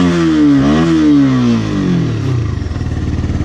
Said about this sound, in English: I just rev my engine like this.